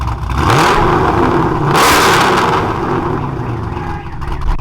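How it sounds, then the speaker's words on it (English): A cammed V8 truck engine revs hard and loud at close range, a continuous roaring surge that climbs, holds and eases slightly near the end, with no talking over it. "this one's a cam V8 motor, so rev it"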